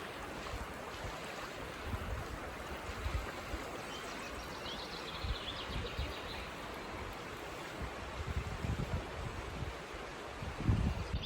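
Stream water flows steadily through temperate rainforest on the Milford Track, a continuous broadband rush and gurgle close by, alone without voices, with a brief louder splash near the end.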